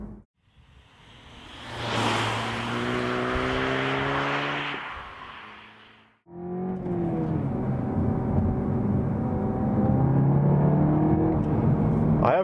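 A 2015 Seat Leon Cupra 280 with the Performance Pack drives on the road, its engine droning steadily with rising and shifting tones as it accelerates, a brief dip near the middle, then a sustained loud whir continuing to the end.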